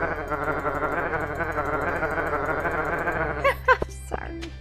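Camel in the Stardew Valley video game lets out a bleating, sheep-like cry, a wavering call over steady background music, followed by a few short sharp game sounds.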